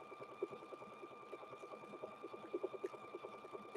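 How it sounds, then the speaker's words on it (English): A sewing machine stitches a quilted handbag, giving a faint, steady, rapid mechanical patter with a low motor hum underneath, heard alone without speech. "I'm going to stitch down this one."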